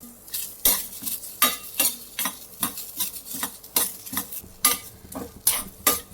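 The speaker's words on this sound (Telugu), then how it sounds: "ఇప్పుడు కొంచెం పచ్చి కొబ్బరి కూడా వేయించుకుందాం" Raw coconut fries in a pan, with a soft sizzle beneath rhythmic metallic scrapes and clicks from a spoon stirring it, repeating about every half second.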